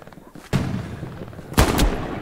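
Gunfire in the Hell Let Loose war game: two sharp, loud nearby shots about a second apart, each followed by a booming echoing tail, over faint ambient battlefield noise.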